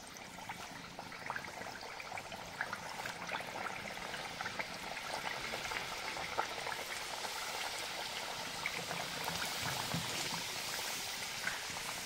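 Pumpkin gharya fritters sizzling as they deep fry in hot oil, a continuous faint bubbling hiss with scattered pops throughout.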